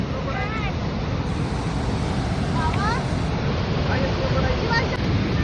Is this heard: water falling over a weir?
yes